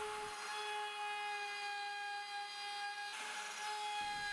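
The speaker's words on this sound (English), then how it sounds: "First, I'll cut all the required parts with a table saw." A table saw cuts wooden parts for a homemade router-bit sharpening jig, giving a steady, loud whining drone with strong tonal harmonics that runs nearly four seconds and shifts in pitch near the end as the blade works through the wood.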